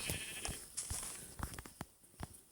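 Short video game sheep bleats repeat amid faint clicks and light background noise, fairly quiet and close.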